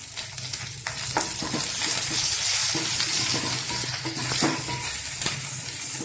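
Onions sauté in hot oil in a pan while lamb boti kudal kulambu is being cooked, a continuous close sizzle broken by scraping stirs and occasional clinks of the spoon.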